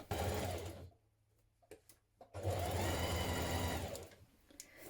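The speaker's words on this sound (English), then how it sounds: "we're now going to sew this side seam in place" A sewing machine stitches a shirt side seam in two long steady runs, pausing in the middle with a few small clicks before starting again at full speed.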